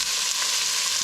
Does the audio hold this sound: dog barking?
no